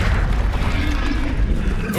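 A Confringo spell explodes in a fight in the PC game Hogwarts Legacy, a heavy, booming rumble that fills the short moment alongside other loud combat effects.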